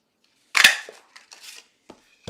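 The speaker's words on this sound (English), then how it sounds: "I'm going to punch this one out right here" A paper punch clacks through cardstock to cut out a shape, one sharp crunching snap followed by a few softer clicks and rustles, close and isolated in a quiet room.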